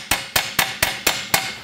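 A brass hammer taps a pin through a Harley-Davidson FXR motorcycle frame during a frame extension install, six sharp, evenly spaced metallic strikes in quick succession, close and clear with no talking.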